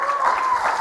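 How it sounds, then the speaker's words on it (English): Brief audience applause at a panel discussion on trade wars, a short, even wash of crowd clapping lasting under a second, steady and moderately loud. "if you think the US will not win the trade wars, round of applause"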